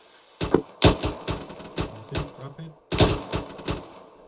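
Rapid gunfire in the Arma 3 military simulation game, bursts of sharp close shots in quick succession, a pause, then another cluster of shots.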